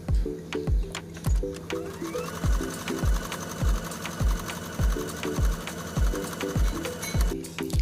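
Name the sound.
sewing machine stitching Barbie doll clothes legs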